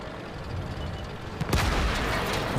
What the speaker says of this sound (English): VKP explodes beside me